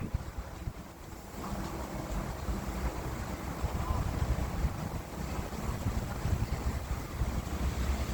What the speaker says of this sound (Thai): ลมแรงมากนี่มาอีกแล้ว